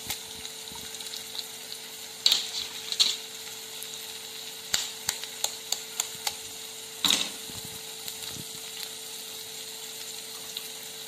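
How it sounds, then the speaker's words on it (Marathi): Egg bhurji frying in a pan while being stirred, a faint steady sizzle with intermittent scraping clicks of the spatula and a few louder scrapes, close and without talk. "मस्त असं आपल्याला हे हलवून घ्यायचं आहे"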